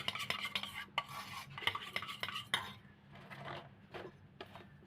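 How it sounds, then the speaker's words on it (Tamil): A spoon stirs and scrapes as coconut oil is worked into a homemade beetroot skin cream, giving close, uneven clinks and smears in a small container, with no talking. "ஒரு 4 ட்ராப்ஸ் அளவுக்கு நான் கோகோனட் ஆயில் நான் மிக்ஸ் பண்ணிக்கிறேன்."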